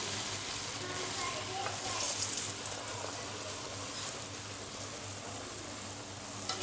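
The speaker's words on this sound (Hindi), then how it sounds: "घी हमारा प्री हीट हो गया है। अब हम इसमें ऐड करेंगे पूरी।" Puris frying in preheated ghee give a steady, dense sizzle that holds evenly throughout at moderate loudness, with no voices over it.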